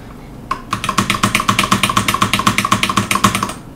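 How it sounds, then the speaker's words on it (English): Fast typing on a computer keyboard under Linux, a quick even run of about two dozen crisp, close key clicks lasting around three seconds. "what happens if we type more fast and switch this fast?"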